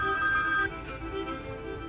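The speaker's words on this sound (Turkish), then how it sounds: "Aç telefonu, aç." A telephone ringtone rings in a short burst, a bright electronic tone that cuts off partway and then gives way to quieter background sound.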